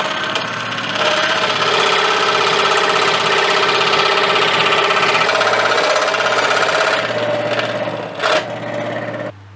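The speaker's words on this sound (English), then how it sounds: "I'm ready to route this out now." A router cuts into wood held in place with a clamp and pivoting on a large bolt, part of restoring a 1938 Healing 448E radio. The whine is loud and steady, runs for about nine seconds, and drops off near the end.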